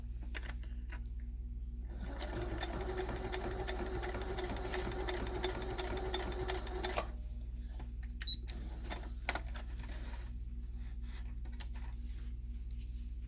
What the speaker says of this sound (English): I'll be sewing these edges onto the inside, and I've created my corners for my pocket